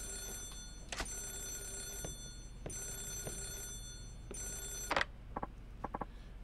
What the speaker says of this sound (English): Yes, that is the phone.